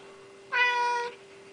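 A single clear meow from a Siamese cat, drawn out for about half a second, close by with a faint steady hum behind it.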